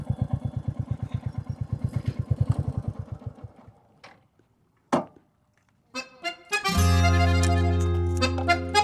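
A motorbike rides along a riverside track by the Teesta River near Mohipur Bridge, its engine putting in a rapid, even chug that fades away, followed by scattered other sounds and a sustained tonal hum.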